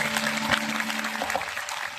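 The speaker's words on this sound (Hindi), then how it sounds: "इसलिए एक बार सारे श्रोता और सारे कार्यकर्ताओं के लिए तालियों से स्वागत कर दें।" Applause from listeners and volunteers at a Hindu religious gathering celebrating Lord Ram's coronation in Temri, a dense steady clatter of many hands that holds at an even level for about two seconds with a faint low hum underneath.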